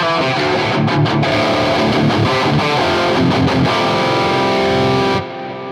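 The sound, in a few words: electric guitar lead tone, 5150 amp model on Helix Stadium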